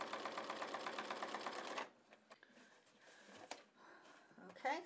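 A sewing machine stitches fabric for foundation paper piecing with a fast, steady mechanical whir for nearly two seconds, then stops, leaving scattered handling clicks and rustles nearby.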